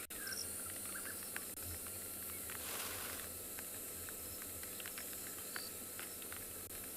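A dense evening chorus of crickets, cicadas and frogs on a South African safari, a steady wall of insect trilling with scattered chirps and calls layered through it at moderate distance, continuous for the whole stretch with no voices.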